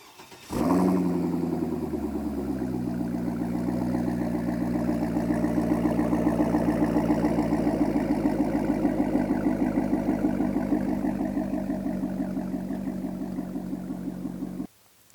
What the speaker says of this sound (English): One of them being the Corsa Performance exhaust, which sounds really good.